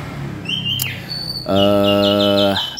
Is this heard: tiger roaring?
no